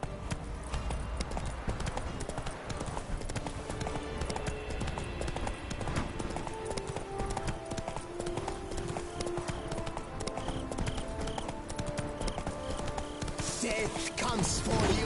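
A horse trots along in The Witcher 3 with steady, rhythmic clip-clopping hooves. The hoofbeats run loud and continuous under game music, with occasional voices.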